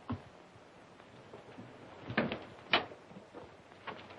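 A door in an old 1935 film of A Christmas Carol gives a few faint knocks and clunks over quiet background hiss.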